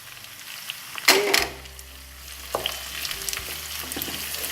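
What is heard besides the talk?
frying red and green peppers with parsley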